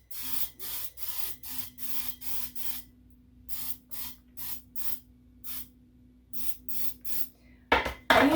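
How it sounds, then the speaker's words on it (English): An oil spritzer mists avocado oil onto a brownie pan in about a dozen short, even hissing bursts, with brief pauses between them and a clatter at the end. "I'm going to lightly spray avocado oil on my"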